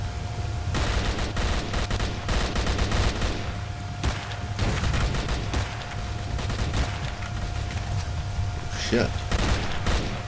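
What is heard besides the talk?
gunfire from bandits shooting zombies in the video game S.T.A.L.K.E.R. Call of Pripyat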